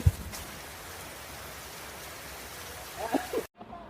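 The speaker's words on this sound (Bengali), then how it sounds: "খাওয়া দাওয়া শেষ করতে করতে আমরা ঝুম বৃষ্টি পেলাম হাওরের মধ্যে" Heavy rain pours steadily over a haor wetland in Bangladesh, a dense even hiss that stays close and constant, with a few faint knocks near the end before it cuts out.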